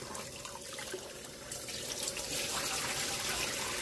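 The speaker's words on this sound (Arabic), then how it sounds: "هسه ان شاء الله راح اغسل التمن واضيفه على الحشوة" Tap water running over rice being rinsed in a bowl or pot while preparing filling for Iraqi dolma, a steady splashing trickle that grows louder and fuller halfway through, with no talking.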